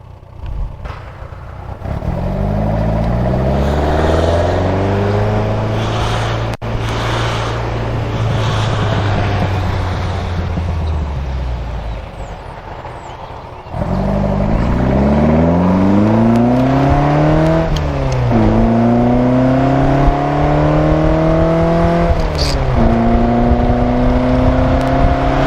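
A 1961 Triumph TR4 engine pulling through the gears on the road, rising revs on each shift with a pause and then accelerating again, loud and close from inside the car.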